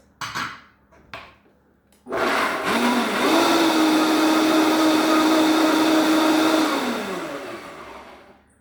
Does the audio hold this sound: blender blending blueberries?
yes